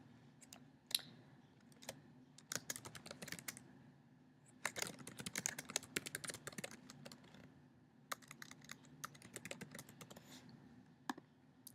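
Typing on a computer keyboard at close range, with irregular bursts of quick key clicks separated by short pauses and no voices.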